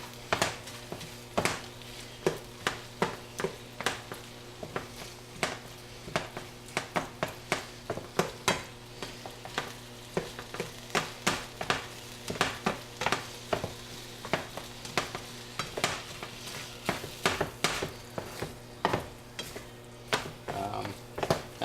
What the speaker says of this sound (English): mix it in with the sauce